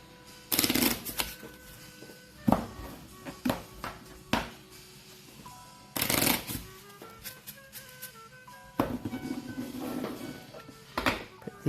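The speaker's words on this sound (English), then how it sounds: "Let's start shuffling here." Sleeved cards for the board game Habitats are shuffled by hand in repeated riffling bursts, close and crisp. Quieter handling sounds fill the gaps between shuffles, with occasional faint talk.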